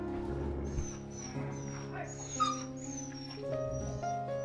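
A Rajapalayam dog whimpers in thin, high, wavering whines that rise and fall repeatedly at close range, with low murmured voices underneath.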